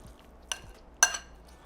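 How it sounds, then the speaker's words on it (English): A spoon clinks twice against a bowl while apples and cranberries are stirred into sweet potato mash, two sharp light taps about half a second apart in a quiet kitchen. "And we're just going to mix this all together."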